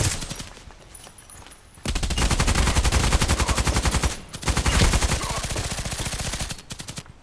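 Rapid continuous gunfire in a first-person shooter video game, involving a Glock pistol and a grenade: two long loud bursts of fast, evenly spaced shots separated by a brief gap, with no talk.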